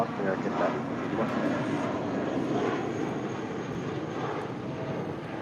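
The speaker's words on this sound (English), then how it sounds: "It's that Old Blue Eyes departing to Salt Lake City with JetBlue Airways, flight 1732 on an A320" A JetBlue Airways Airbus A320 departs LAX for Salt Lake City, its engines giving a steady, broad roar that holds at an even level throughout, with faint voices underneath.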